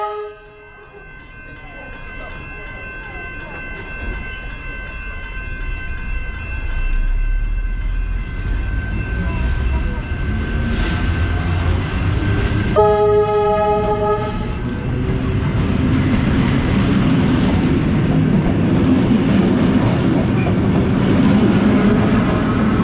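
Vintage Tait suburban electric train running empty on the Sandringham line in Melbourne, a steady loud rumble of wheels and motors with a long horn blast partway through and rail clatter building toward the end.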